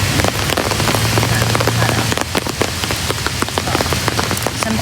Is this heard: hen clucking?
no